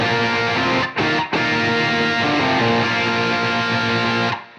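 A heavily distorted electric guitar rings out in a loud sustained chord, briefly cut twice near the start, then fading out at the end.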